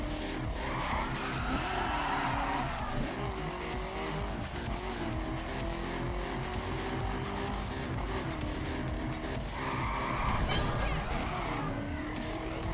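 A car races and skids on the road in the video game The Crew, engine droning steadily with two brief tire squeal bursts, under continuous background game noise.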